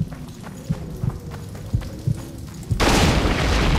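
A video game explosion in The Witcher 2 bursts out loud and broad and lingers as a rumbling roar. Before it, a series of dull thuds and footsteps sound under faint background noise.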